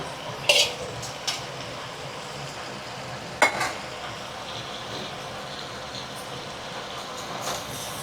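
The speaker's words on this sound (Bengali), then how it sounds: "চলো আমি ভালো করে মশলা দিয়ে কষিয়ে নিই। দেখো আমি ভাজা আলুগুলো দিয়ে দিলাম।" Fried potatoes being stirred with spices in a hot pan, a steady sizzle with a few sharp scrapes and clacks of the spoon, close and alone without talk.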